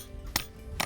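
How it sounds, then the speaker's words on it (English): Two sharp knocks ring out as a spile tap is hammered into a tree for collecting sap, each strike short and fairly faint against a quiet outdoor background. "this is the spile or the tap, and you're actually going to place it in the hole, and then you'll hammer in here"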